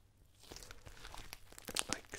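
Close, crisp crackling and crunching of crunchy slime being squeezed, in a rapid irregular series, growing louder as it is squeezed and pressed.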